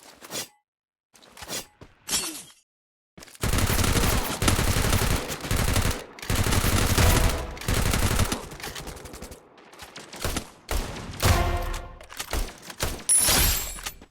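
Bursts of rapid gunfire in a shooter video game, loud automatic volleys and single shots separated by short silences, with no voices over it.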